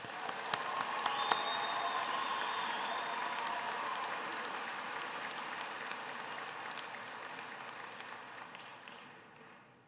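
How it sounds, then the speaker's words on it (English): Applause at a Western Wyoming Community College graduation ceremony: a large crowd claps steadily for about ten seconds, a dense even patter that tapers off at the end, with a few brief voices in the hall. "Let's give them a big round of applause."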